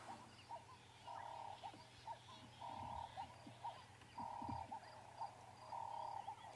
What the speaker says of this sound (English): you can hear the doves really starting to give it stick now